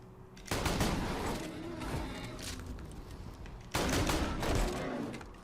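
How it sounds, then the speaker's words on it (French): Shotgun blasts in the video game Borderlands 2, two loud, booming bursts a few seconds apart, each followed by a long rumbling decay of gunfire and in-game noise. "On va tester ce fusil à pompe."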